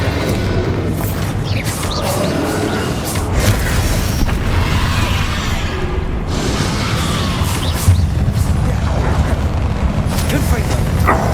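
Bombarda blasting spell in Hogwarts Legacy battle, heavy booming explosions and crashes repeating amid a constant loud combat din, with voices in the mix.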